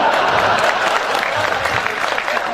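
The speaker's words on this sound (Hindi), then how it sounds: "आप भी ताली बजाओ" Dense, steady clapping from a crowd at a live Hindi poetry recital, continuous and fairly loud throughout, with a murmur of voices mixed in.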